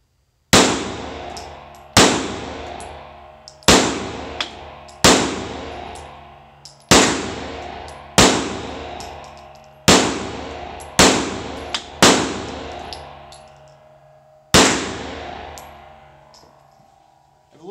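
Steel-frame Q5 Match pistol fired at a shooting range: ten loud, sharp gunshots spaced roughly one to two seconds apart, each with a ringing decay, close to the listener.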